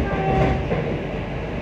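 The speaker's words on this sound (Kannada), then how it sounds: "ಟ್ರೈನ್ ಇವಾಗ ಚಾಲಕ್ಕಡಿ ಅನ್ನೋ ಸ್ಟೇಷನ್ನ ಸ್ಕಿಪ್ ಮಾಡ್ತಾ ಇದೆ" Vande Bharat special express train from Ernakulam to Bengaluru running on rails, heard from inside a coach as a steady low rumble with faint rhythmic rail noise over a brief moment.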